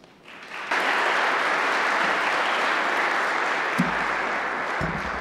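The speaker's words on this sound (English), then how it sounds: "so we applaud them for that effort" Applause erupts from an audience at a Veterans Day celebration, building quickly from a few claps into a loud, sustained wash of clapping that holds steady before easing slightly.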